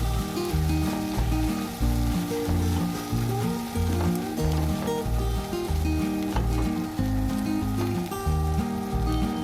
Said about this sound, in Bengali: এবার ধনে গুঁড়ো আর জিরে গুঁড়োটা মশলার সঙ্গে একটু ভালো করে ভেজে নেব।